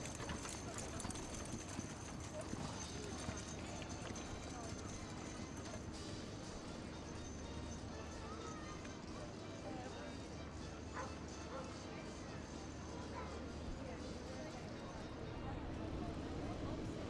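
Hooves of a team of six heavy horses clip-clop steadily at the Royal Highland Show's heavy horse turnout championship, mixed into constant crowd and showground noise, with a dog barking at times and a commentator's voice running over it.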